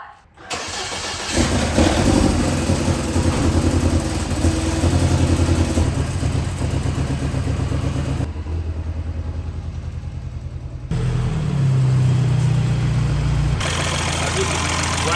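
A Mini Cooper Turbo with an oil leak onto the turbo starts up and runs loudly, its engine idling and revving unevenly over the whole stretch while being moved in a garage.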